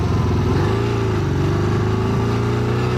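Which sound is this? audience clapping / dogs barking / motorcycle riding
motorcycle riding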